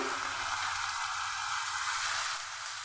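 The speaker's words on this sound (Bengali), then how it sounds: "মশলাটা খুব ভালো করে কষিয়ে নিচ্ছি।" Cumin, coriander and turmeric powder frying in hot oil, a dense continuous hiss and sizzle close by, steady and even throughout with faint low stirring underneath, no talking.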